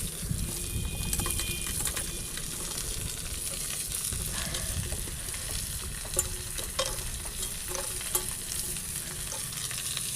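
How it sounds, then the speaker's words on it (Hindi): Onions fry in a pan for a sag bhat lunch, added to chillies and garlic that have already browned. A steady, dense sizzle runs throughout, with occasional stirring scrapes and small pops and no talking. "प्याज को हल्का ब्राउन होने तक भूनूंगी मैं"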